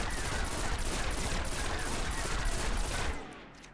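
A pulse rifle in the video game Destiny fires fast and continuously as rapid, evenly spaced gunshots that run loud for about three seconds and then stop.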